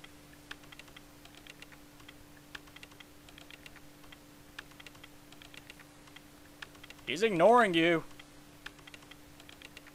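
Quick, rhythmic tapping on a computer keyboard from the character Clamp in the video game Parasite Eve repeats faintly over a steady low hum, with a brief spoken line cutting in near the end.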